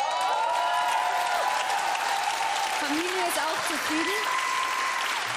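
A live audience applauds after a show dance on the Austrian TV competition Dancing Stars 2012, a dense steady wash of clapping that runs under a German-speaking voice, with bright musical tones weaving through.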